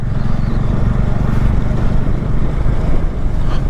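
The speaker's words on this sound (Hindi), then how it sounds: "बाइक चलाने में इतना ज़्यादा मज़ा आ रहा है ना" A motorcycle ridden on a mountain road trip through the Spiti valley near Chitkul, a steady low engine rumble mixed with heavy wind buffeting the microphone, continuous and loud throughout.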